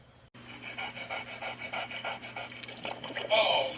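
Beethoven the dog pants rhythmically and heavily, close up, in quick regular breaths over a low steady hum, with a louder burst of breathing at the end.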